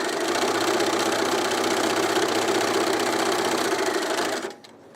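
A sewing machine runs fast and steady close up while stitching a strap for a top, a loud continuous motorized whir that stops abruptly at the very end.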